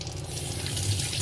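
Tap water runs steadily into a sink while a tilapia fish is washed, a continuous close gush with no break and no one speaking.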